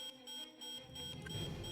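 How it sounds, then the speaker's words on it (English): A speaker aboard a starship in Tales of Arise gives off a steady, high electronic beeping tone, held alongside a low rumble of game ambience that swells toward the end. "break the speaker that's making that beeping sound"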